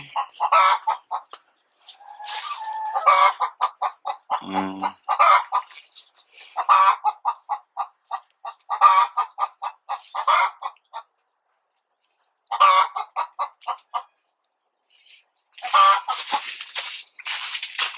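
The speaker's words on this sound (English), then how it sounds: "Sounds like a happy hen" A hen clucks steadily in short, rhythmic bursts, close by, with brief pauses between runs of clucks.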